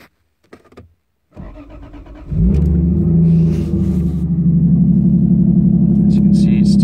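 A Lexus IS300 with an immobilizer bypass cranks briefly, then its engine catches and settles into a loud, steady close-up idle rumble after a short click and quiet start.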